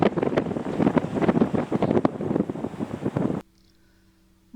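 Strong coastal wind buffets the microphone above Robin Hood's Bay, a small fishing village on the North Yorkshire coast, roaring in loud uneven gusts for several seconds before cutting abruptly to near silence.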